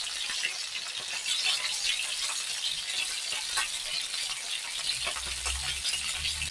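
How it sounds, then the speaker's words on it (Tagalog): Lamb chops fry in a pan with a steady broadband sizzle that holds without a break, loud and close, with some stirring and a faint watery noise near the end. No one speaks. "Parang matagal lutuin itong lamb chops sa baka."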